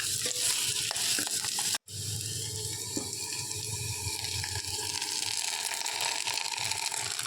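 Ground masala sizzles and frys on a low flame in a pan, a steady close crackling hiss with a few faint stirring scrapes and a brief dropout of sound, without any talking.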